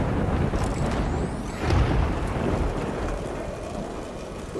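A steady, dense downpour of rain in the video game Death Stranding, loud and close, with a low rumbling swell partway through.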